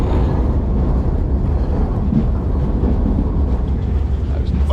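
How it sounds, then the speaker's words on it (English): A slow freight train in Cambodia rumbles continuously at close range, a dense low rolling roar with rattling wagon noise, heard from on board with no clear talk. "Another slow train."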